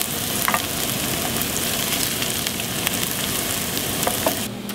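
Onions and garlic fry in a pan with a steady, dense sizzle and crackle that continues without a break, with no voices.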